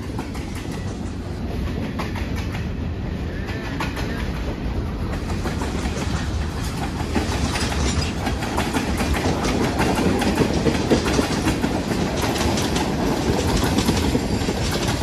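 A Marquette Rail train rumbles past up close in Bitely, Michigan, its wheels clattering loudly and continuously over the rails as the roar builds and holds.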